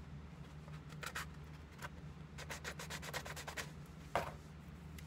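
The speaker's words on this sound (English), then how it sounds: "It's a sanding block." A sanding block rubbed across wood for an easy wooden sign, a quiet series of short scraping strokes in bursts, with a faint steady hum underneath.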